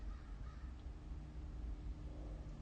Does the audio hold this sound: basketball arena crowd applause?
no